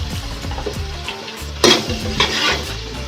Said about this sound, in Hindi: अब हम इसमें ऐड कर देंगे अदरक लहसुन का पेस्ट, जो कि 1 टेबल स्पून है। इसको भी हम फ्राई कर लेंगे।